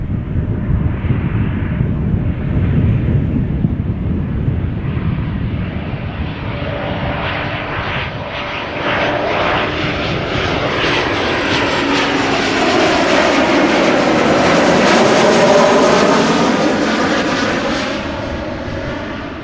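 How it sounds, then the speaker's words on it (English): An airliner lands at Amsterdam Schiphol Airport, its engines roaring louder as it sweeps past nearby, then the whine fades into a long, continuous rush. "Beautiful landing"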